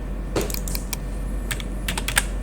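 Numbers typed on a computer keyboard, a quick irregular run of close, crisp key clicks over a steady low hum, with no speech.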